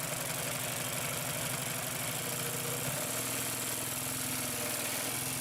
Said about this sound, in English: continue to sew